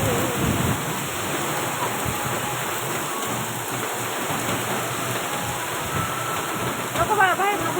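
Heavy rain in Pune with strong wind makes a steady, dense wash of noise, a broad hiss over a low rumble. Near the end a faint chirping cuts through the downpour.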